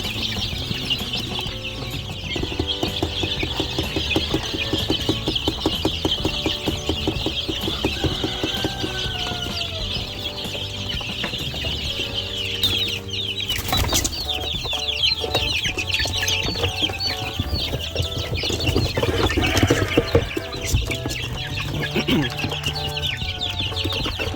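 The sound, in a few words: chickens and chicks clucking on a farm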